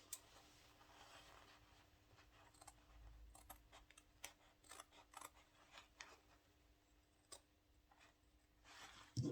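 Scissors make quiet, irregular snips and clicks while cutting trouser fabric open along one side, with soft handling rustles between the cuts. No one is talking.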